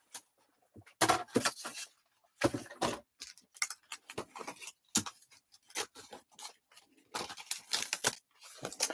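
Scissors snip through paper to cut out craft shapes, giving a run of close, crisp cuts in uneven bursts with short pauses between them.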